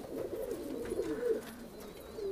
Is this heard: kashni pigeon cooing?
yes